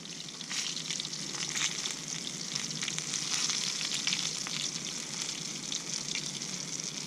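Breaded bullhead fish fry in hot grease in a Griswold cast iron skillet, giving a dense, steady sizzle and crackle that holds throughout at moderate level, close by and with no one talking.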